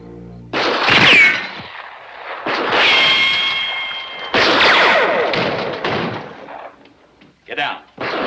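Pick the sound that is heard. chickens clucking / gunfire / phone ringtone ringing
gunfire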